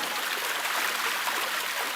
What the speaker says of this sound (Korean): 계곡에 물이 흐르고